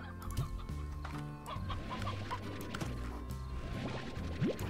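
Chickens cluck and squawk in the video game Slime Rancher, several short calls scattered over steady game music and ambient sounds.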